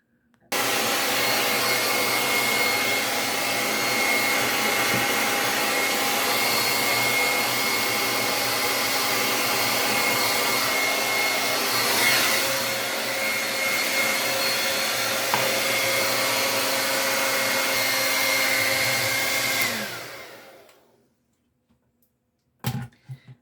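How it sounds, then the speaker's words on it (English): A hair dryer blows steadily and loudly at close range on hair left to air dry, running for about twenty seconds before it switches off and a couple of faint handling knocks follow. "right now I'm just going to go ahead and blow it"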